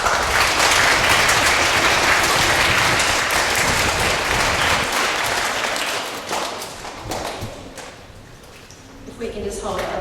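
Dense, loud audience applause in a school hall at a K-12 presentation day assembly, sustained for several seconds before thinning out and dying away as a speaker's voice returns.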